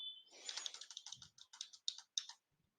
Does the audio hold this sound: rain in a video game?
no